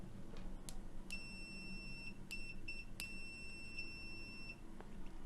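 An Aneng 620A multimeter in continuity test mode gives a series of high electronic beeps, a few short chirps, then sustained tones of about a second each, close and clear over a faint background hum.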